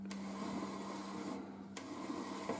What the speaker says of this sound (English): Oh, happy days, there's motor 1 working.